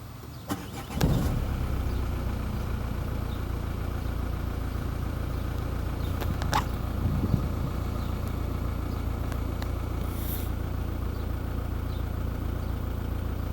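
Volkswagen Passat B5 engine cranking and catching near the start, then settling into a steady close idle that continues throughout, with a vacuum gauge hooked to the brake vacuum pump and check valve.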